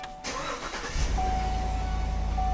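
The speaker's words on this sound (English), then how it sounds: "we'll crank the car up" A car engine cranks and catches at about one second, then settles into a steady, close idle that runs through the rest of the moment. A faint electronic tone sounds over it.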